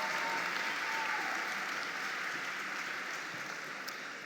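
A large graduation crowd gives sustained applause after twins sing the national anthem, a distant, smooth wash of clapping that stays even and slowly softens.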